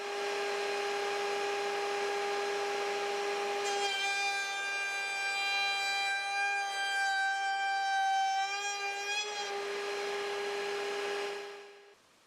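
A router table with a lock miter bit cuts through plywood, a loud sustained tonal whine that holds for several seconds, rises slightly in pitch as the wood passes, then fades out at the end.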